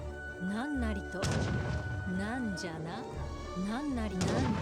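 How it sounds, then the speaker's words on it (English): Gunfire from an Age of Empires 3 match, heard as a few sharp crackling bursts spread across the moment, layered beneath a steady talking voice and game music. "I hear some gunfire there."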